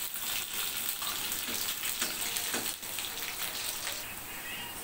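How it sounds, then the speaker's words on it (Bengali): Potatoes with a little salt fry in a small amount of oil in a wok, giving a steady close sizzle with faint crackles and the occasional scrape of stirring. "হালকা লবণ দিয়ে আলুটা ভেজে নেব, দিয়ে দিব কড়াইয়ে আর একটুখানি তেল।"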